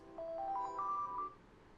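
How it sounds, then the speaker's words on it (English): A phone alarm ringing, a short rising series of clear electronic tones lasting about a second, fairly faint against a quiet room. "That was just an alarm on my phone."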